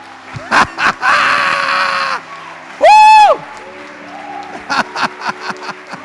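A church congregation at an evangelical Brazilian service bursts into applause and cheering, a dense burst of clapping and shouts rising between voices, with a bright whooping cry and scattered claps toward the end.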